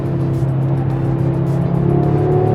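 Audi RS3 8Y five-cylinder engine pulling hard at speed, a steady loud drone with a rising pitch toward the end, heard from inside the car with no talking.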